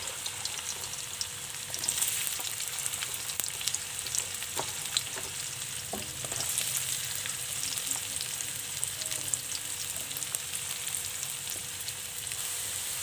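Potatoes fry in hot oil in a pan, a loud, close, steady sizzle with intermittent crackles and occasional stirring clinks across the whole stretch, no voices present.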